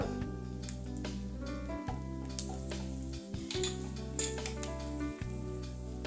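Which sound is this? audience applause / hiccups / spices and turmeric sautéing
spices and turmeric sautéing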